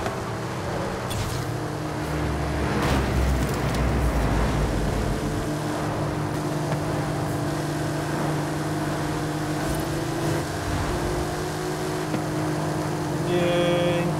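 A 2021 Bentley Continental GT Convertible driving fast, its engine a sustained loud roar with rising and shifting tones over fourteen seconds, accompanied by wind and road rush and no talk.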